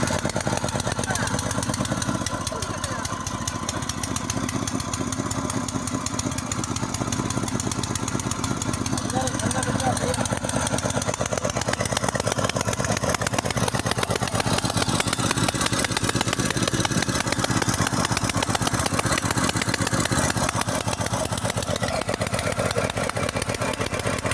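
An HTP KK-PSP series agricultural sprayer pump with a petrol engine runs steadily at close range, a loud rapid chugging engine drone lasting throughout without pause, with a voice occasionally heard under it.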